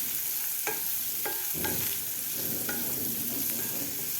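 Chopped onion frying in a pan for bread rolls, with a steady close sizzle and several sharp scrapes and stirring knocks of a spatula against the pan.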